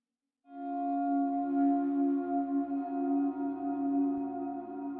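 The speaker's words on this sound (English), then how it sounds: "the guitar track sounds like this." Electric guitar with effects plays sustained chords that swell in from silence, ringing and layered with gently pulsing volume, heard alone.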